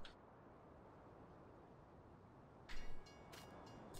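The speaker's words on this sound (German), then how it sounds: "Schaut, der Zug fährt schon wieder vorbei." A train rolls past in the Farming Simulator 19 farming game, a steady rumbling rail noise with a brief louder clatter near the end, heard at moderate distance with no talk.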